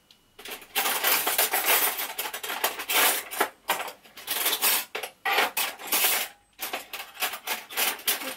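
Metal spoons clatter and clink repeatedly against dishes while serving creamy Finnish salmon soup, close and busy, in bursts of rattling with brief pauses.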